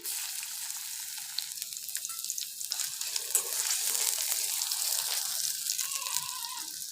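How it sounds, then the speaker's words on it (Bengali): Chopped onions and a split dried red chilli frying in hot oil, giving a fairly quiet, continuous sizzle with a few soft stirring sounds. "দেবো পেঁয়াজ কুচি"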